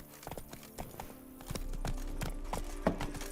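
Horse hooves clip-clopping in The Witcher 3, a steady trotting rhythm of sharp, close hoof strikes with a brief snort or whinny near the end.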